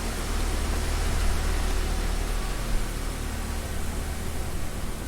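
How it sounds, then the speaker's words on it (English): Video game wind rises into a steady, loud, airy rush that swells slightly and then holds, with no speech over it. "The wind just really picked up."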